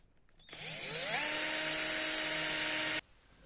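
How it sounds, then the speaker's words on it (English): A power drill spins up and bores a pilot hole into the corner of a shop-made zero-clearance tablesaw throatplate. The whine is steady and close, holds for about two and a half seconds, then cuts off sharply. "drill a pilot hole"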